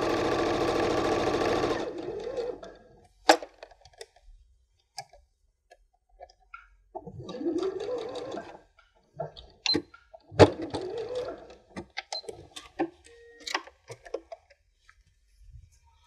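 A sewing machine runs a seam down to the end and across the bottom of a fabric scissors case, in several short bursts of whirring stitching separated by pauses and small clicks after an opening run.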